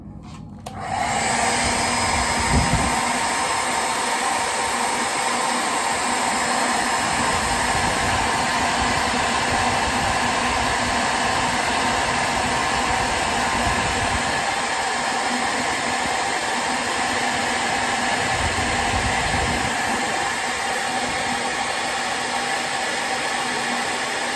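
A heat blower runs steadily for about 24 seconds, warming the legs of a He-Man action figure, a loud continuous whooshing hum with no pauses and no talk.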